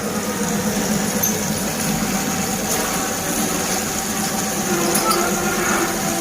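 Large drain-cleaning machine running to unblock a floor drain, a dense, steady mechanical drone and rattle that stays loud and constant throughout, with faint voices underneath.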